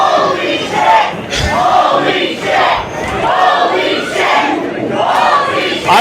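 Wrestling crowd at an LPW independent show roars, shouting and chanting in loud rhythmic waves that swell and dip throughout, close and dense with no commentary over it.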